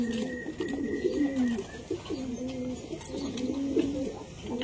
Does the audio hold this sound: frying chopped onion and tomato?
no